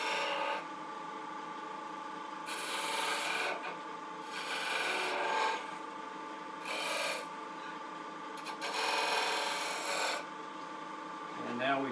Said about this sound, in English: I'm going to take a spindle gouge and just kind of clean that up a little bit,